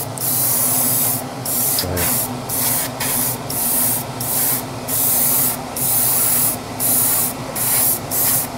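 Spray paint hisses in repeated bursts, heavy passes for a final gloss coat on a Tamiya Castrol Celica WRC model car body, each burst about half a second with short gaps, close and steady.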